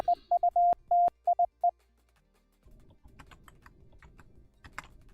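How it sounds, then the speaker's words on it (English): A series of short electronic Morse code beeps, dots and dashes in one steady tone, plays out crisply and fairly loud for under two seconds, followed by quiet room noise with faint clicks. "I can't believe it actually plays the Morse code out."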